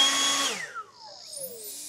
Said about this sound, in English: just how much quieter the Tone Leaf Blower is